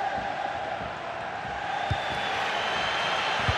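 Football stadium crowd in the FIFA 22 video game, a Getafe vs Real Betis La Liga match, a steady wash of roaring and cheering spectators with a couple of brief thumps, under light commentary.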